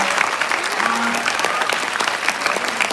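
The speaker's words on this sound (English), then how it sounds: "Can we have a huge round of applause for them?" Students and guests at a business school event applaud the panelists, many hands clapping steadily and fairly loudly, with a few voices murmuring beneath the clapping.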